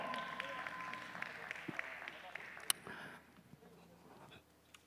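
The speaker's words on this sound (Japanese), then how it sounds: "大きな拍手を。" Audience applause after a band's performance at a band contest preliminary, a fairly quiet, dense patter with a voice over it, tapering off after about three seconds into a quieter room.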